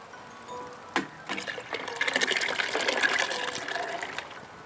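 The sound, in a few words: liquid splashing into a pot while cooking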